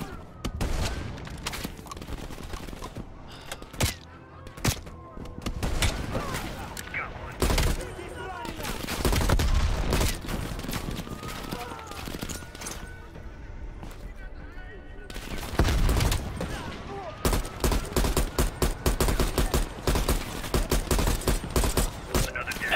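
Rapid gunfire in Call of Duty Black Ops Cold War, shots hammering away at a canister in loud dense bursts with brief pauses, over game music and effects, while a person talks.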